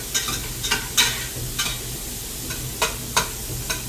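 Onions cooking in a pot for barbecue chili, stirred in a series of sharp scraping strokes over a low steady sizzle, close and clear, with no talking.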